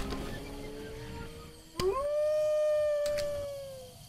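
A wolf companion in Zelda Breath of the Wild lets out a single long, rising then gradually fading howl, clear and prominent over quiet game ambience, with a couple of sharp clicks around it.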